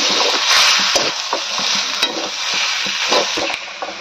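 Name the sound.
grandmother stirring chicken pakora mixture with a spatula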